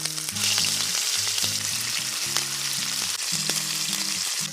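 Lamb chops fry in butter in a large frying pan, giving a loud, steady crackling sizzle close up, with low background music underneath.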